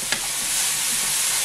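Chopped pineapple hits a hot pan and sets off a loud, steady, close sizzle that hisses on without a break after a brief clatter at the start.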